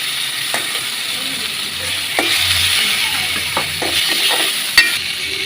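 Tomatoes fry in hot oil for a village-style egg curry, a steady loud sizzle running throughout with occasional clinks and scrapes of stirring.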